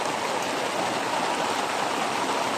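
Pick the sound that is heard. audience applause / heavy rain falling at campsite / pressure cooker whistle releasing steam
heavy rain falling at campsite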